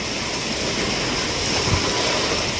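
Rough sea waves churn during Typhoon Kabayan in Surigao, a loud, unbroken roar of surf and wind filling the whole stretch with no voices.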